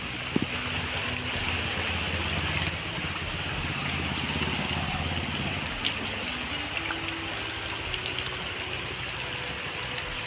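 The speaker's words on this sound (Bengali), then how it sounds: "দেখছেন আবার শুরু হয়ে গেছে বৃষ্টি।" Steady rain hiss fills the scene, a dense continuous wash of falling water with no voices, constant in level throughout.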